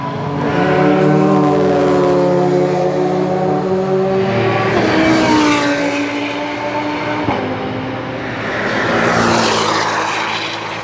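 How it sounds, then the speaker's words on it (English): Race cars at the Nürburgring endurance race, fast and slow machines mixed on track, roar past in loud sustained engine notes with rising and falling harmonic sweeps as they pass nearby, no talking. "You've got the fast cars mixing it with the slow cars."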